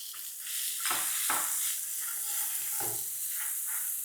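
Onions frying in a pan for an instant chutney, a steady close sizzle with a few stirring scrapes and no talk.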